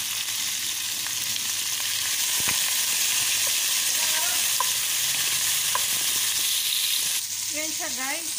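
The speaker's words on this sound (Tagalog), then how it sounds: "nagisa na tayo ng bawang sibuyas" Garlic and onion sautéing with sardines in a pan, a loud continuous frying hiss held steady throughout, with faint scattered clicks and a brief rise in the hiss near the end.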